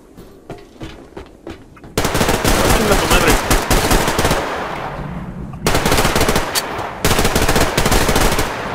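Loud, rapid automatic gunfire rattles in the online shooter Survarium, with quieter single shots first, then long dense bursts separated by brief pauses.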